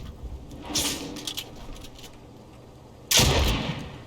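Machine pistol fire in a video game, two short bursts of sharp, crackling shots, the second louder and closer, with quiet gaps between them.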